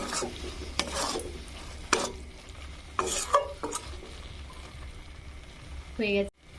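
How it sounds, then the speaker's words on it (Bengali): Sugar and ghee are stirred into bottle gourd and poppy seed paste in a pan, with scraping spoon strokes at intervals and a soft sizzle underneath; a voice speaks briefly. "চিনি ও ঘি ভালোভাবে মিশিয়ে নিব"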